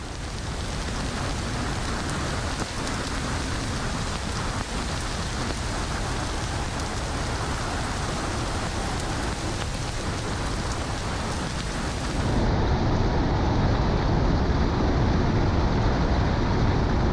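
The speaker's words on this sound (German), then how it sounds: "es regnet und ist recht kühl" Steady heavy rain falling on a drive toward Bergen in Norway, a dense, continuous hiss that grows slightly louder and fuller near the end, with no voices.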